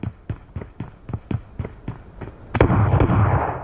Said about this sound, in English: flare gun